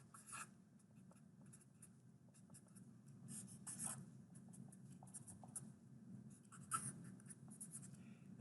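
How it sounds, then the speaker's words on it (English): Pen or pencil scratching on paper while a circuit diagram is sketched by hand during a lecture, faint intermittent strokes over a low steady room hum. "If I have the following, I'm going to sketch it real quick."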